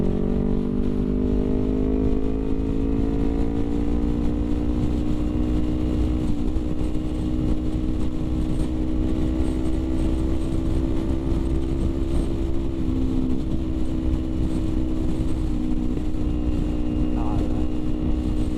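A Kawasaki Ninja 250R motorcycle rides along with a steady, sustained engine drone and slowly shifting pitch, loud and continuous under rushing wind for the whole stretch.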